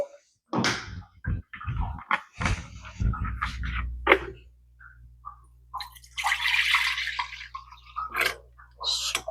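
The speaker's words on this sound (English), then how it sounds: "Splash there, splash water." Water runs and splashes into a cooking pot in a home kitchen, a brief burst of pouring amid clinks and a low steady hum, with a person talking before it.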